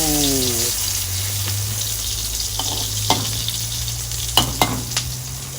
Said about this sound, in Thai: เจียวไข่กะเพรานะคะ